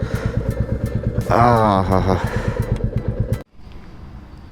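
A motorcycle engine idles close by with a steady rapid thump, briefly revving higher midway, while a voice talks over it before the sound cuts off.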